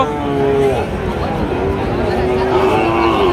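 Cattle low and moo at the weekly Saturday livestock market in Joypurhat, where Sahiwal bull cattle are sold, the drawn-out calls rising over a steady murmur of crowd chatter and voices.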